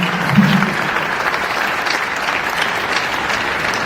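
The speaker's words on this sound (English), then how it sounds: "I mean, you're free to clap if you want." An audience claps at a live-streamed public event, producing a dense, continuous wash of applause that holds at an even level throughout.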